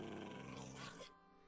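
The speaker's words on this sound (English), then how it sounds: "Your dog's waiting here for you, Elite." A Minecraft dog gives a low, rough growl, fairly quiet and continuous for about a second before fading out, with no talking over it.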